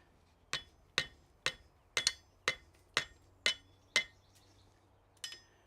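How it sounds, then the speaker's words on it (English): Hammer blows ring out on hot metal being forge welded in a smithy, about nine sharp metallic strikes in a steady rhythm with a short pause before a final hit, close and clear with no talking. "Actually got the metal hot enough to forge weld at that point, I think."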